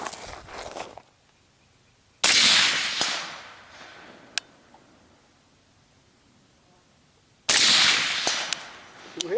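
Two loud, sharp gunshots from a rifle on a hot outdoor shooting course crack out several seconds apart, each followed by a decaying echo across open ground.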